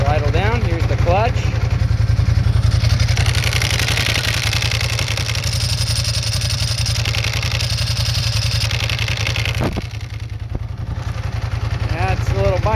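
A Ducati ST2 motorcycle engine idles and runs steadily at close range, a continuous low throb lasting throughout with a slight dip near the end, while someone talks over it at times.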